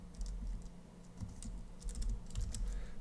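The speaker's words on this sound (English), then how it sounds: "I swear I can type things" Quick, light keystrokes on a computer keyboard, a loose cluster of soft clicks and taps at close range, quiet and with no voices.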